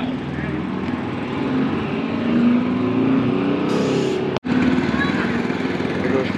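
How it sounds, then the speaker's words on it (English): A 1971 Ford W900 truck with an 8V71 Detroit diesel and 10-speed drives past at a truck show, a steady loud engine roar with a brief dropout near the end. "'71 Ford W900 with an 8V71 Detroit 10-speed."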